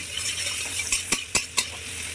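Cumin and chopped onion frying in butter on a tawa for polao: a constant close sizzle hiss, joined near the end by a few sharp spatula taps and scrapes.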